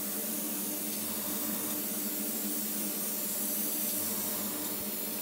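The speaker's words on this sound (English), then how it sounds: "I'm keeping the airbrush in with all the panels" Airbrush spraying paint onto an Airfix 1/72 Vulcan model kit, a steady close hiss of air and paint that runs unbroken throughout, with no talking.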